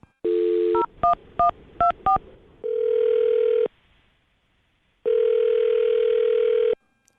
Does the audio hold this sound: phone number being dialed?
yes